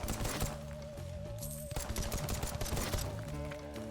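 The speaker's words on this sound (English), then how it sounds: "I don't love the sound of the bullets" Rapid bullet gunfire in the video game Nightmare Kart: quiet bursts of automatic shots rattling under steady game music, with no talk.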